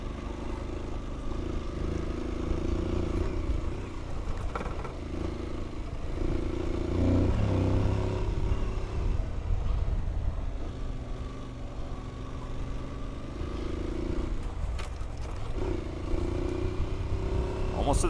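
An adventure motorcycle climbing tight mountain switchbacks on the Idaho backcountry route, its engine a steady low drone that rises and falls with throttle, loud and close, with some rattle and a voice talking at times.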